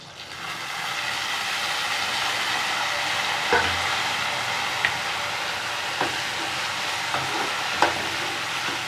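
Turkey berries fry in hot oil with a steady, even sizzle, broken by a few sharp clinks and taps of a utensil against the pan.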